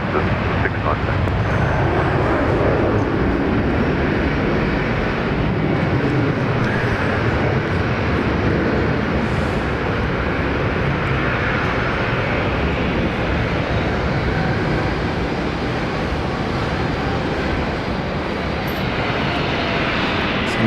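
A jet airliner rolls for takeoff on runway 19 left at Brisbane airport, a steady loud roar of engine noise and wind filling the whole stretch without letup.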